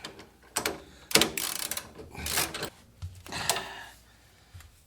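A ratchet wrench tightens the trackbar bracket bolt on a Jeep Cherokee XJ during a Cavfab trackbar install, giving close, uneven bursts of metallic clicking and grinding strokes separated by short pauses.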